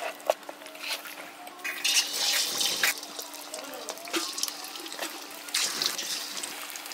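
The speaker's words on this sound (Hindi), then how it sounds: "तो तेल हमारा गर्म हो गया है, तो हम डाल देते हैं अब इसमें चिकन पहले फ्राई करेंगे।" Chicken pieces dropped into hot oil for a gravy chicken curry: a sizzling hiss that swells and fades in bursts over a low steady hum, close by.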